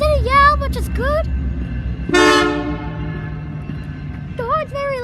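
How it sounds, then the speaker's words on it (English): A Canadian Pacific Christmas train of 2019 sounding its horn, a loud sustained multi-tone blast lasting a few seconds close by, with people speaking before and after it. "The horn's very loud."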